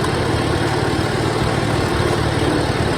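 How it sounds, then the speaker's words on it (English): A farm tractor engine runs steadily at close range, a loud, continuous mid-to-low rumble with no breaks or revving and no voices. "So the sound of this tractor brings back a lot of memories for me."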